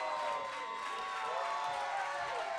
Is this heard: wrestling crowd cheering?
yes